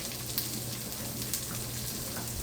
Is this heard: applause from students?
no